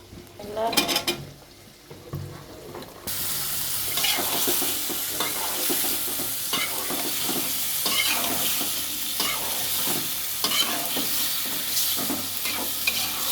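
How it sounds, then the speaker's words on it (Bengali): Vegetable stems added to potatoes and tomato in a pan sizzle steadily with a loud, continuous frying hiss, broken by brief clatter and stirring at the start. "এখন আমি ডাটা দিয়ে দেবো আলুর সাথে।"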